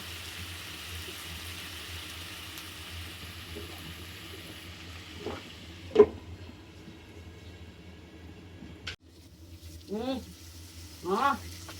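Hilsa fish eggs fry in oil with a soft, continuous sizzle and crackle, broken by a few clattering pan sounds and brief, louder bursts of spitting oil, with a voice faintly present.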